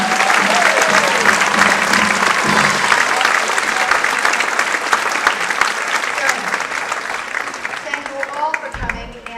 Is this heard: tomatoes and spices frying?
no